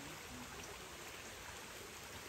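Water from a natural spring on a rural farm flows in a steady, soft hiss and trickle, faint and continuous with no voices over it.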